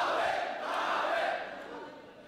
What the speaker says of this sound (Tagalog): Iba talaga yung crowd ng Flip Top